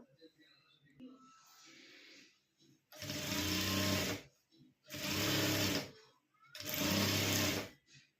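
Sewing machine stitching a cloth doormat in three loud, steady bursts of a few seconds each, separated by short pauses with quiet handling of the fabric.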